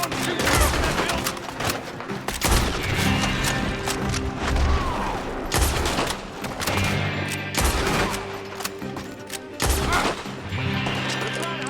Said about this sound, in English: There's one shooting up in that building!